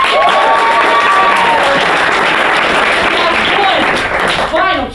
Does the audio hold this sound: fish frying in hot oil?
no